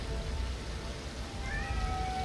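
A pet cat meows in a drawn-out call toward the end, faint against a steady low background hum and noise, with no talking over it.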